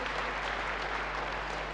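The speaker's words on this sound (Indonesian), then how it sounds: "Beri tepuk tangan yang baik bagi dia." Steady applause from a church congregation fills the space, a dense, even wash of clapping that holds at a consistent level from start to finish.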